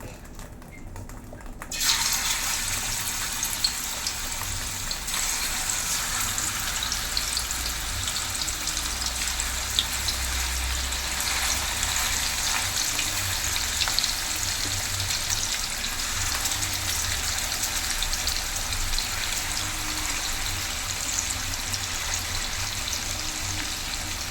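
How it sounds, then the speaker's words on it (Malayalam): Fish drops into hot oil in a pan for a Kerala-style fry, and a loud, steady, hissing sizzle starts abruptly and carries on unbroken at close range. "ഓയിൽ ചൂടായിട്ടുണ്ട് നമുക്ക് മീനിട്ട് കൊടുക്കാം"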